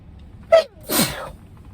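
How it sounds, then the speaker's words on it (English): A single sharp sneeze, close and clear, followed by a breathy exhale in an otherwise quiet space. "Oh my gosh, I'm like, why am I sneezing?"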